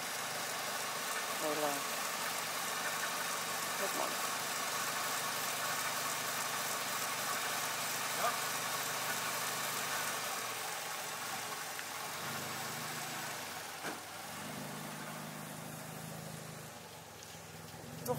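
Car engine idling with the hood open, a steady low mechanical rumble with faint ticking that runs continuously for about eighteen seconds, close by, while someone speaks briefly over it.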